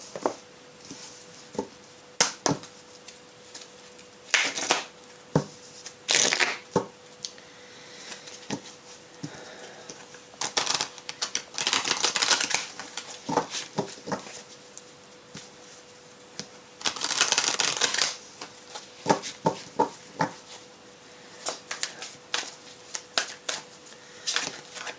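Oracle cards are shuffled by hand with repeated quick riffles and soft slaps, in irregular bursts over about twenty-five seconds. The sound is close and fairly quiet, with longer shuffling runs near the middle and end.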